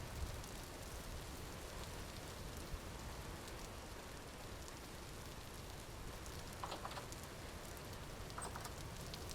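Rain in the game Vintage Story, falling in a granite area near a cave: a dense, steady wash of patter that runs without a break, with a few faint clicks and no talk.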